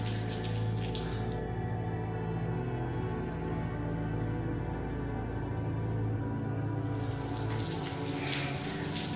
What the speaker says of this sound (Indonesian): Hujannya makin gede lagi.